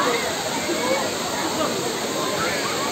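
Water pours continuously at Bato Spring in San Pablo, Laguna, a close, loud, steady rushing hiss with people talking faintly over it.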